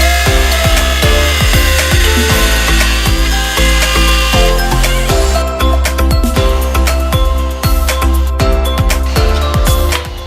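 A power tool grinds out and elongates a strut mounting hole on a race car, loud continuous buzzing with repeated sharp bites and stutters as it works the metal.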